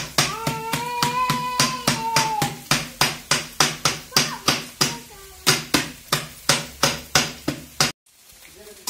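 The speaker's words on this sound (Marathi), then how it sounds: "असे चटणी बारीक करून घेणार वांगे" Eggplant chutney with chilli and garlic being crushed by hand, a steady series of sharp pounding strikes at an even rhythm, about twenty blows, close and loud, with a faint voice early on.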